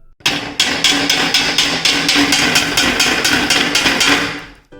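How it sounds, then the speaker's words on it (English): A spoon strikes a metal plate set under a bowl in a steady series of about a dozen loud, ringing metallic hits, evenly paced and close, with no talking. "Put the metallic plate under the bowl and start hitting it using the spoon."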